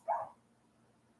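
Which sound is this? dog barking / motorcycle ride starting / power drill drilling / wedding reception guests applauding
dog barking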